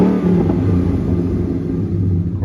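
Ford Mustang GT V8 engine revving up close, a loud deep growl that swells and holds with throaty rumble across the whole burst, no voices.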